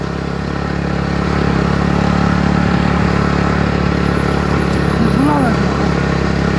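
A Royal Enfield Bullet motorcycle engine thumps steadily and loudly while climbing the Tirumala hill road, a constant low throb with road and wind noise, under a voice.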